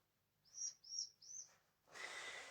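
Baby birds that have just been fed chirp three times in high, thin calls, faint and close, followed by a soft rush of breathy noise.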